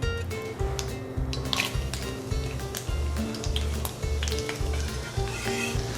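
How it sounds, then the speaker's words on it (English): Garlic and jalapenos sizzling in a pan of butter and olive oil, a steady crackling fry running throughout with a repeating low thumping rhythm underneath. "we're gonna toss in the garlic and jalapenos and let those brown for about a minute"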